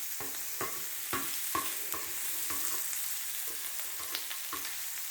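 Portuguese wokke fries in a pan over a low gas flame, a steady soft sizzle broken by regular scraping strokes as a utensil stirs the food, with no talking.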